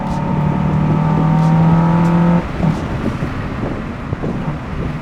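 A Honda Civic Si cruising on a highway, heard from inside the cabin as a steady engine drone with a sustained tone that cuts off partway through, leaving road and wind rumble.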